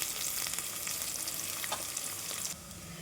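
Onions and curry leaves frying in a pan for hotel-style sambar, a steady close sizzle with scraping stirs throughout, dropping slightly softer near the end.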